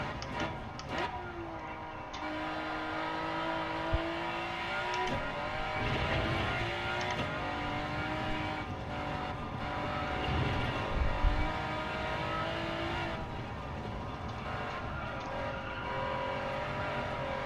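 A race car engine in Gran Turismo 7, driven at Clark Speedway, revs and shifts through gears continuously, with rising and falling pitch and brief drops between shifts, steady and moderately loud.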